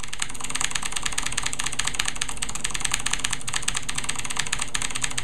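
Rapid, continuous clicking of computer keys hammered during a game of DLC Quest, a dense steady rattle held up close over a low hum, with no talking.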